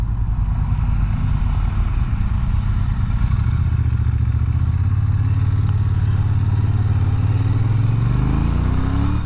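A 2018 Triumph Bonneville T120 engine rumbles steadily while being ridden, a deep loud throb that rises in pitch as it accelerates near the end, with wind noise over it.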